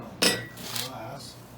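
Hardtack biscuits drop into a glass storage jar with a sharp clink, followed by a softer second clatter and faint rattling.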